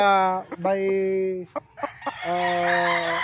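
Two gamefarm broodcocks crow and cluck in close, loud bursts, with long drawn crows broken by short clucks and brief gaps, and no voices.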